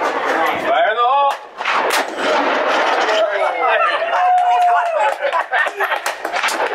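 A blast set off after a shouted warning at an event, heard as loud, dense booming with gunfire-like cracks that run through the whole stretch over a crowd's chatter and shouting.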